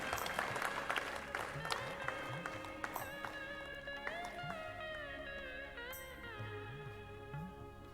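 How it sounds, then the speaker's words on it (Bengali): An audience at a Teachers Day ceremony applauds steadily under a sustained musical tone from the stage, the clapping dense and continuous throughout. "আপনারা কিন্তু হাততালি দেওয়া বন্ধ করলে চলবে না"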